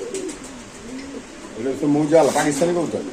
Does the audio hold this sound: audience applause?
no